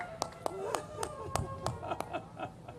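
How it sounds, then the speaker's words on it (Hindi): Audience at an International Yoga Day celebration with a yoga guru bursting into scattered hand claps, a series of sharp separate claps spread across a few seconds, with talk and murmuring underneath. "एक बार जोरदार ताली बजा दो भाई।"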